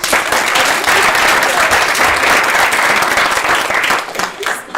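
A room of attendees at a school award ceremony applauds a woman who nominated the honorees, loud, dense clapping holding steady and thinning slightly near the end.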